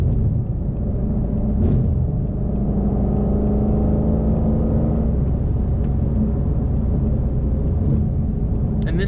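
A Ford Shelby GT500 with a supercharger accelerates hard, heard from inside the car as a steady, loud, deep engine roar with whirring that holds throughout, with no talk.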